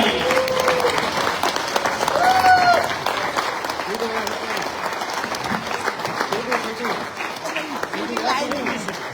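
An audience at a leadership development training event in Ramnagar applauds loudly, with sustained dense clapping throughout and voices and whistle-like tones rising over it.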